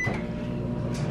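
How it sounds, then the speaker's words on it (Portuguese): A microwave oven runs with a steady, even electric hum for about a second while heating mini Japanese-style pizzas, with no talking. "Vaca Zoom, coloque no micro-ondas"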